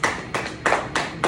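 Applause at a stand-up comedy night at the Melody Inn, five loud, close hand claps in an even rhythm about three to a second, each with a short ringing tail.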